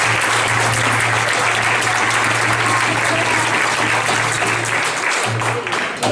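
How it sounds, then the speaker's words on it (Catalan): An audience applauds steadily at an outdoor concert by a traditional Catalan gralla band, loud and sustained for several seconds with a low steady hum beneath. "Un fort aplaudiment per l'Alba i la Bea."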